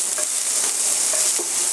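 Cauliflower florets tossed and fried for Chinese-style chilli gobi make a brief, loud, hissing sizzle up close, with faint scraping flickers from the tossing.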